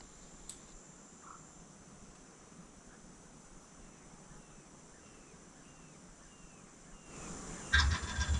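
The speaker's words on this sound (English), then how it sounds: "you hear her putt. She saw me." A wild turkey hen gives her putt alarm call from a palm-frond blind setting outdoors, faint and distant against steady insect and cricket buzz, with a louder rustle near the end.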